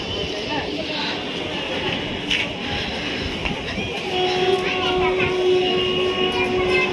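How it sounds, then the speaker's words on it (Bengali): A train passes near Barrackpore station as a steady, broad rumble with a sustained tone rising in the later part, while people talk nearby and children's voices are mixed in. "ওই যে ট্রেন যাচ্ছে"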